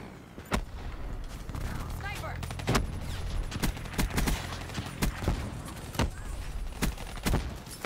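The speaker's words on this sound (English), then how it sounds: "They're shooting at each other." Gunfire in Black Ops 3 multiplayer, a series of sharp shots and bursts scattered irregularly across several seconds, punchy and near, with a person talking over the action.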